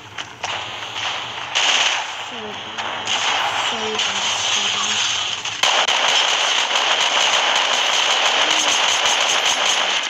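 Gunfire rings out in a video game set on Polar Peak, a run of sharp shots and crackling bursts over a background hum, with a person talking in between.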